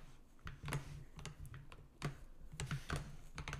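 Fast, uneven keystrokes on a computer keyboard as Python code for a number guessing game is typed, close and clear with no talk over it.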